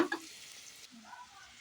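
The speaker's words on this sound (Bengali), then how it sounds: "এখানে হচ্ছে আলু ভাজা আর পটল ভাজা" Potatoes and pointed gourd sizzling in a pan of hot oil, a soft steady frying hiss after a brief stir clatter at the start, close and fairly quiet with no talking.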